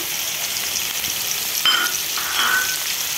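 Cubed carrot and capsicum fry in a pan as they are stirred, a soft continuous sizzle broken by a few scraping stirs of the utensil, heard alone and fairly quiet.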